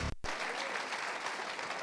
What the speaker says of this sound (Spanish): Si va a aplaudir al Señor, dele con toda su fuerza